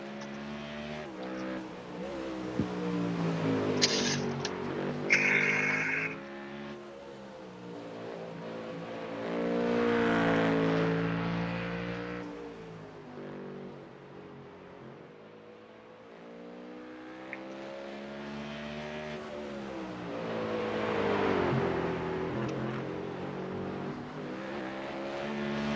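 Race car engine in the iRacing sim at the Nurburgring, revving up and down through gears with loud swelling and falling drone, brief tire squeal and scrubbing, continuous across the stretch.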